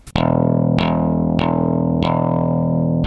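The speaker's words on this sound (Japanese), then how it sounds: "こういうイメージでサムピングすると" Bass guitar played with the slap thumb technique, the thumb striking and bouncing off the string for five sharp, bright thumps at an even pace, each note ringing with sustain, close and loud with no talking.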